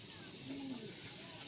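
Andhra pigeons cooing softly at close range, a low murmuring coo over a steady hiss of background noise.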